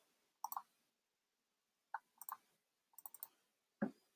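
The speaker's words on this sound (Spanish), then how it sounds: "haciendo doble clic" Mouse double-clicks in a video editor come in small crisp clusters: a pair, a pause, another pair and a triple, then a duller knock at the end, close and isolated against near silence.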